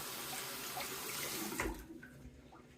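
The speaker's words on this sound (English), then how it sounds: "let me drain this water and kind of wash my hands off." Water runs steadily into a sink while a razor shaver washes off his hands and drains the basin, then the rushing fades into softer trickles and drips near the end.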